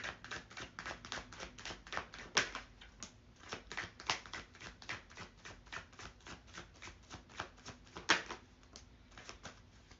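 Tarot cards shuffled by hand, a steady run of quick, close riffling taps and flicks that continues evenly throughout, soft but crisp.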